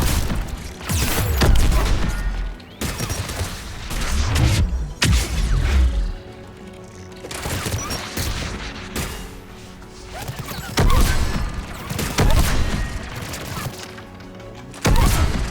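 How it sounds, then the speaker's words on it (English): Spike thrower gunfire in Mass Effect 3, repeated heavy blasts and thuds in irregular bursts amid chaotic combat noise and impacts. "I should be using my spike thrower, shouldn't I?"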